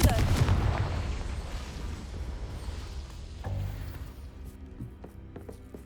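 A Confringo spell explodes in Hogwarts Legacy, a loud booming blast right at the start that rolls into a long rumbling decay. Lighter impacts and game effects follow.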